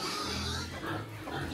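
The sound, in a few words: pigs squealing on a farm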